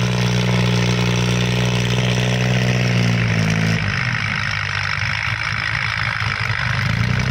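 A Kubota 47 hp tractor engine idles loudly through an open, loud exhaust, a steady close-up rumble that shifts in tone partway through.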